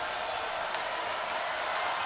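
A women's college basketball crowd, Michigan at Toledo, cheers in a steady, moderately loud wash of voices, with a few sharper shouts poking through.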